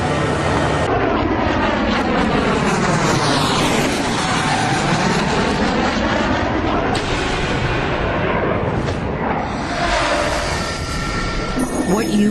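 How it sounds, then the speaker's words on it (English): An airplane moves fast along a runway, a loud continuous engine roar with sweeping pitch changes as it passes, and voices are heard over it. "I thought he was taxiing awful fast."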